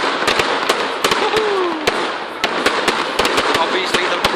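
Cheap, faulty fireworks crackle and pop in rapid sharp bursts, one whistling shot rising amid the close, loud reports, while a voice speaks faintly underneath.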